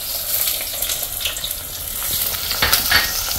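Small shallots and garlic sauté in a pan with a dense, steady sizzle and crackle, joined by soft stirring scrapes that grow a little more active toward the end.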